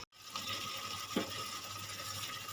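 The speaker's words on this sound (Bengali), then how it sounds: "এর মধ্যে দিয়ে দেবো অল্প পরিমাণে সর্ষের তেল" A small splash of mustard oil poured into a pan of simmering dim shorshe, an egg and mustard curry, with a brief pour near the middle over a steady bubbling hiss.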